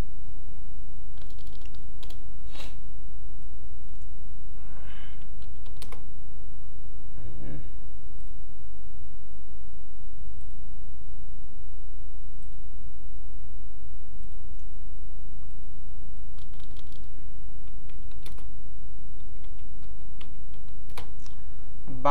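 Scattered keystrokes on a computer keyboard come in short clusters and single taps, faint and close, separated by long quiet gaps over a low steady background hum while price levels are typed.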